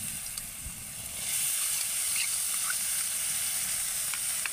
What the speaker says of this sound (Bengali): প্রথমে একটু নেড়ে ভেজে নেব এগুলোকে তেলের মধ্যে।